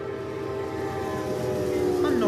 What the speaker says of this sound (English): A northbound Amtrak. Nice horn honking.